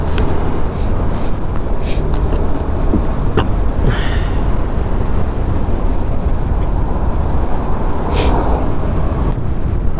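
A motorcycle ride along the road near Atimonan Zigzag Park brings strong wind battering the microphone, a loud, unbroken roaring rush that lasts the whole stretch and buries everything else.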